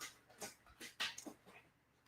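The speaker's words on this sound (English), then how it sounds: "You can hear my puppy chewing paper underneath my desk." A puppy chews paper under a desk nearby, making a few irregular crinkly, rustling bursts that rise and fade over a couple of seconds, with no talking.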